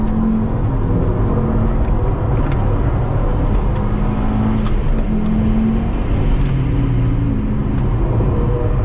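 A car is driven hard around the CTMP Mosport race track, its engine droning loudly and continuously from inside the cabin as the pitch rises and falls with the throttle.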